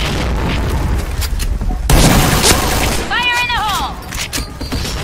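Grenade blast in a first-person shooter game: a sudden loud boom around two seconds in, amid a busy, noisy mix of game sounds and a rising electronic chirp afterward.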